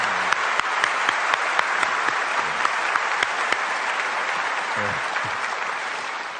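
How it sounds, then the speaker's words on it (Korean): Congregation applause fills a church, a steady dense clapping from a crowd close by that holds evenly for about six seconds, with a few sharper individual claps standing out. "박수 한번 하겠습니다"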